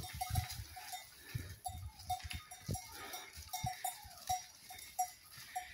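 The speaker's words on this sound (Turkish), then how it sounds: "Koyunlar geliyor." A flock of sheep and goats arrives along a village stream on grazing ground, with a repeating bell-like tone ringing steadily through soft shuffling hoof and animal noises, fairly faint and without talk.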